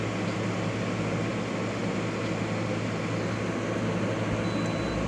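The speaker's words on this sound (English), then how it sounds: "There we go. Compressor came on." A window air conditioner's compressor runs as a steady, close hum with a low drone and constant airy rush filling the whole stretch.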